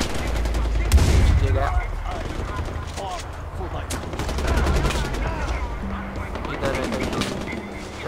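Shotgun fire in the Far Cry 4 video game, several sharp blasts scattered through a busy mix of game effects, with a player talking over the action.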